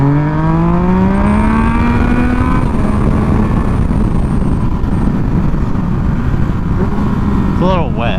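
A 600cc street bike accelerating to pass on a slightly wet road, its engine whine climbing steeply in pitch and then settling into a loud sustained roar under heavy wind rush, heard from the rider's position, with a voice talking.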